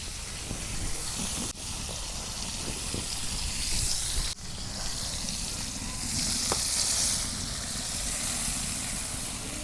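Pomfret fish fry in hot oil in a pan, giving a continuous loud sizzle and crackle with faint clinks, steady for several seconds without talk.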